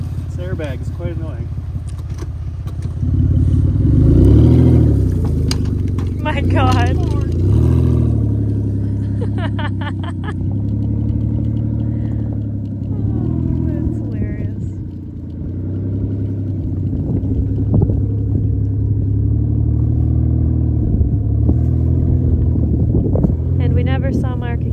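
A crashed Ford Escape's engine rumbles loudly and steadily as it is driven, rising and falling with throttle over a continuous low drone, with people talking over it.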